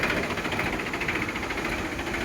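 A 2014 Mahindra 395 tractor engine idles steadily nearby, a continuous rough rumble with a faint knocking rhythm and no voices.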